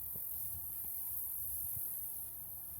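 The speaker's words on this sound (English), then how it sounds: "You can hear all the bugs, all the crickets" Crickets and other insects chirp in a partly mowed field by a fence line at a home in Bozeman, a faint steady high-pitched trill with no voices over it.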